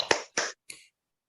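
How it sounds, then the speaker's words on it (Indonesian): Children clap hands along to a song at a church kids' service, three quick separate claps, close and clear, the last one lighter, then silence. "Kalau kau sukacita tepuk tangan."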